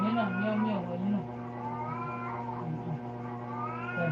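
A cat meows repeatedly in long, wavering calls, close and fairly loud, while people talk and a voice mingles in around it.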